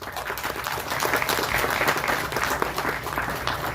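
A dense crowd applauds at a Tamil film launch event, steady loud clapping from many hands filling the room without a break, with faint voices mixed in.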